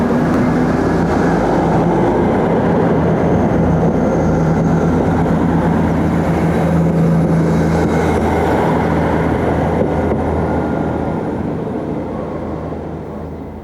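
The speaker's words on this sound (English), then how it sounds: "The real now scene at Sherborne is illustrated by one of the ubiquitous Class 159 unit trains." A Class 159 diesel unit train runs past at Sherborne, a steady close rumble and drone holding strong before easing off slightly toward the end, with no voices.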